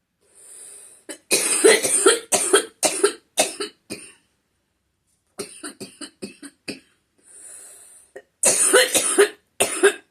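A person coughing repeatedly in close, loud bursts, clustered fits separated by brief silent pauses, with a little throat clearing and no speech.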